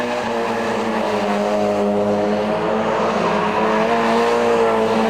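Race cars at a 750 Motor Club meeting at Donington sliding off the circuit, engines droning steadily with a harmonic whine and loud, continuous tyre noise throughout, no talk.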